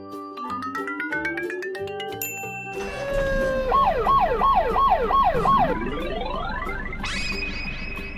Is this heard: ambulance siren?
yes